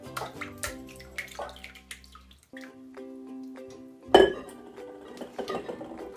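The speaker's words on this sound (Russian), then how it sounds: "Сейчас я буду процеживать жидкость." Liquid draining from fried liver through a metal colander with scattered metallic clinks and a louder clatter near the end, over a steady tonal background.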